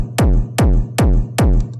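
Four loud kick drum hits run fully through heavy distortion, blown out and saturated, each a thick booming thump with a long gritty tail, evenly spaced and heard alone.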